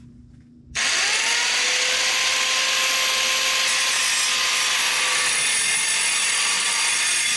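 An Eastwood mini metal saw cuts through a quarter-inch steel piece, starting after a brief quiet moment and then running as a loud, steady high-pitched whine with grinding for the rest of the stretch, with no voices.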